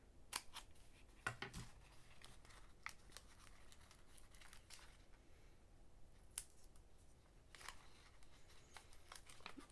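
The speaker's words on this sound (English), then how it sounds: "Let me cut this one a little thinner." Scissors snip paper for a holiday pop-up craft kit, giving faint, sharp cuts scattered irregularly over a quiet background.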